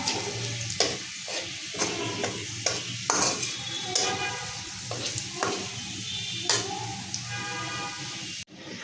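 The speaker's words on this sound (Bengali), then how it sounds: "ডাল ঢেলে দিছি" Dal poured into a hot pan while cooking noodles with capsicum, crackling and sizzling with irregular stirring clatter and sharp scrapes, close up, ending in an abrupt cut.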